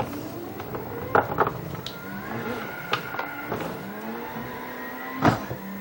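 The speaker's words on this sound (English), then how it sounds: "This is definitely a fun tuner vehicle." A tuner car's engine in a racing video game revs and climbs steadily through the gears, with sharp shift blips and brief spikes standing out over the continuous drone.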